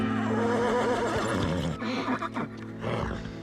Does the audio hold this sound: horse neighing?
yes